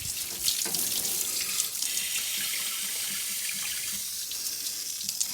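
Rainwater pours from a container into the radiator of a Land Rover Series 1 109 in a steady, splashing stream, close and alone with no talk.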